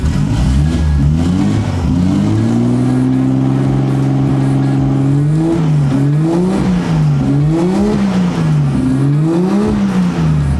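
A Nissan Skyline R32 GT-R engine idles steadily, then revs up and down repeatedly in rising and falling surges, loud and close.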